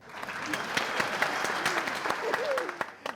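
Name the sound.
audience applause in a comedy show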